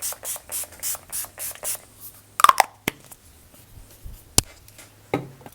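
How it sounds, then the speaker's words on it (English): Urban Decay All Nighter makeup setting spray goes off in about seven short misty spritzes in quick succession, followed by softer handling noises and a few clicks. "Then going with this Urban All Nighter Makeup Setting Spray."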